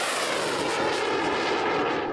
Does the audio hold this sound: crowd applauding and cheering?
no